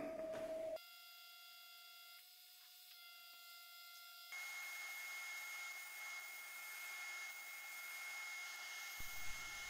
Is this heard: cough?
no